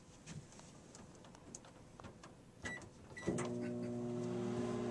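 Microwave oven being set and started: scattered button beeps and clicks, then a steady humming drone kicks in and runs on, fairly quiet and close.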